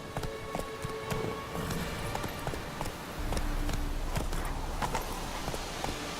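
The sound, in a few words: Roach the horse's hooves in The Witcher 3 video game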